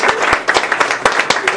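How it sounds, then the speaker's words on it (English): Small group clapping on a cooking show set, with sharp separate claps in an uneven rhythm, close and fairly loud, without talk over them. "Can we give a round of applause one more time?"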